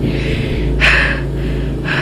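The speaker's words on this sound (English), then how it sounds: "You can hear his breathing. He is like" Heavy, rapid breathing like hyperventilation comes in two sharp breathy bursts over a low, steady background hum, heard at moderate volume with no talk.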